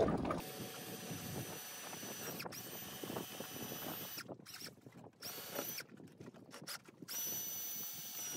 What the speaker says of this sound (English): Time to drill a hole.